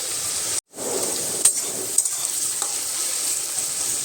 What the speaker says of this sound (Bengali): ভাজার তেলের মধ্যেই আমি পেঁয়াজগুলোকে দিয়ে দিলাম এবার পেঁয়াজগুলো একটু নাড়িয়ে চাড়িয়ে হালকা ভেজে নেব